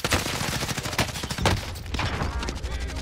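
Rapid gunfire in Call of Duty Warzone, loud overlapping bursts and single cracks in quick irregular succession throughout, with faint game sounds beneath.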